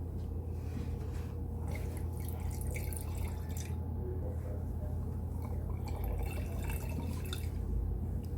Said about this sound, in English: So what I pour here, guys, don't drink it just yet